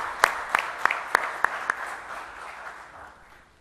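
Six crisp claps in a quick, regular rhythm honor a speaker at a 2013 conference, then trail off into a soft room murmur, with no speech.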